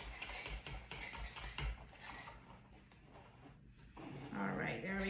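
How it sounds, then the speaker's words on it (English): A knife scrapes around the edges of a greased dhokla pan, giving soft repeated rasps and metal scratches at low volume while a person talks. "You're gonna take your knife and you're gonna run it along the edges."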